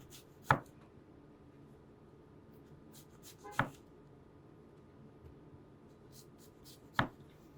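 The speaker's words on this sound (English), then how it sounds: "I would just go ahead and slice down all four sides of the apple" A knife cuts down the sides of an apple in three separate sharp slices spaced a few seconds apart, each a quick crisp chop against a board in a quiet kitchen.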